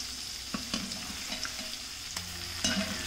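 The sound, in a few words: dynamite chicken pieces frying in batches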